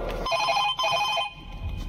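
A telephone rings with a steady electronic trill over a short stretch, fairly close and clear, in a Marathi stage drama, fading as the ring cuts off.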